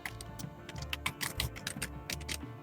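Typing on a computer keyboard to enter a command in Visual FoxPro, heard as a quick run of crisp key clicks in irregular bursts, close by and moderately loud, with no talking.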